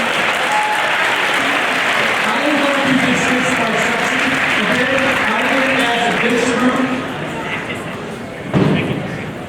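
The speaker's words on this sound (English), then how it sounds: "Give a big round of applause for each other again" Large school assembly crowd claps loudly and continuously during a family talk event, with voices calling and chattering through the applause and a single heavy thump near the end.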